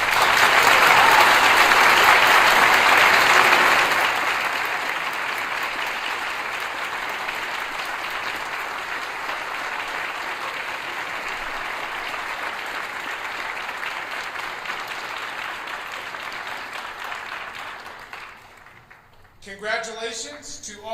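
An audience at a National Honor Society induction ceremony breaks into loud, full applause that peaks early, then continues at a lower, sustained level before fading, with a voice speaking briefly at the end.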